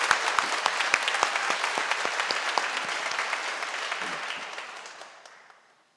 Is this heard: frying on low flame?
no